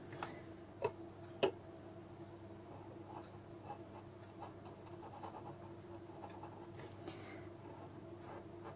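A pen draws ink lines on paper in a quiet room, a faint steady scratching with soft taps throughout and no talking.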